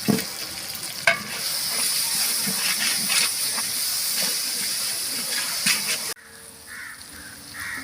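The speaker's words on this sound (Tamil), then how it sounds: "இஞ்சி பூண்டோட பச்சை வாசனை போகிற வரைக்கும் நல்லா வதக்கி விட்டுக்கலாம்" Ginger and garlic sautéing in a large pot for a five-kilo beef dum biryani give a steady close sizzle with a few stirring knocks, before the frying noise suddenly drops to a quieter hiss near the end.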